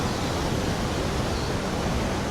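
On a rainy Kedarnath trek in the Himalayas, a waterfall's rushing water blends with wind into a constant, dense hiss with no breaks, moderately loud and steady throughout.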